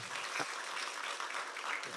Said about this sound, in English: please give a big round of applause to the panelists